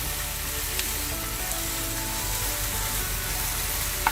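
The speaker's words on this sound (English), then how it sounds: "Keep stirring it till the beef is nice and dry." Beef sizzles steadily and loudly in a pan over high heat, a dense continuous frying hiss with a few faint stirring clicks and no voices.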